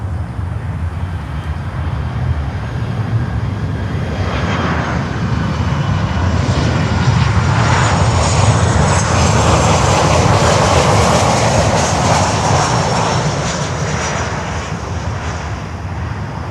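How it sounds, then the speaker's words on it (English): American Airlines Boeing 737-800 passing close at Miami airport, a loud jet roar swelling to a peak midway with rising whine and rumble, then easing off; no voices. "Was American Airlines with a 737-800."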